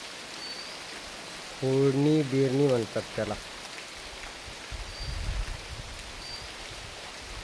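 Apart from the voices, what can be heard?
rain falling during rice sowing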